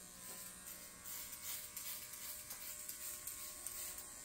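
An electric shaver cutting hair during a bald fade at a barber's chair, a faint, steady high buzz with small bumps as the blade moves over the scalp.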